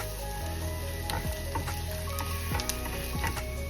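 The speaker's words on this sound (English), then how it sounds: "You have to stir fry it in the butter nicely." Garlic is stir-fried in butter in a pan with a steady, crackling sizzle, while a utensil scrapes and taps against the pan a few times, close and continuous with no talking.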